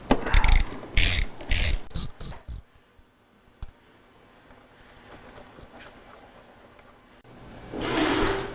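A ratchet loosening the top bolt of a rear shock absorber: several loud bursts of quick clicking early on, then a quiet stretch with faint handling noise and one more ratcheting burst at the end.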